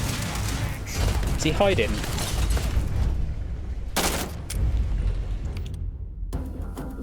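Gunfire in the Starfield video game, a burst of shots and thumps mixed with game sound effects while a voice talks over it.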